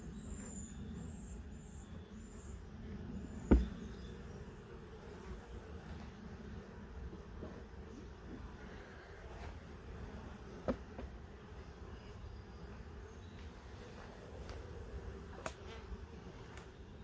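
Honeybees in a hive steady humming and buzzing while smoke is puffed in, a continuous low drone with a few sharp clicks and knocks of a hive tool against the wooden box.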